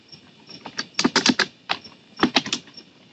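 Computer keyboard typing in quick bursts of clicking keystrokes, close and clear, with short pauses between runs and no talking.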